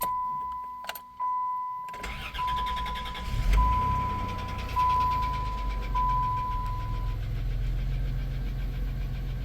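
A 1993 Plymouth Grand Voyager SE, abandoned for 18 years, cranks and fires while cold. It settles into a rough, steady idle with a faint ticking knock. A thin whine sounds before and during the start, and no one talks.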